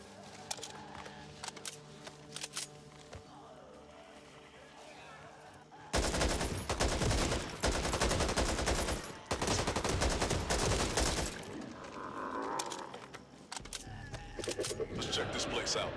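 Assault rifle fire in the co-op zombie shooter Back 4 Blood, with loud sustained bursts of automatic gunfire dense and close, broken by brief pauses, under occasional character voices and game ambience.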